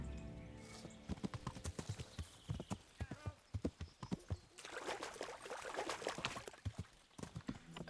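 A horse in Kingdom Come Deliverance trots along with crisp, rapid clip-clop hoofbeats, steady and close, while someone talks over them.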